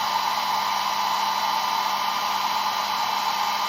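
A hair dryer drying paint on a carved cardinal ornament blows continuously at a steady whine and rush of air, close and unchanging.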